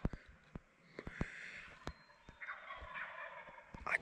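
A wild turkey tom gobbles from its roost about 100 yards away, a faint distant warbling call in a quiet outdoor setting, with soft thumps and rustles nearby.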